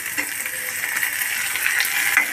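Tomatoes hit a hot pan of reddened fried onions, giving a steady, bright sizzle close by that swells slightly toward the end, with no voices, while cooking Maharashtrian-style lasooni methi.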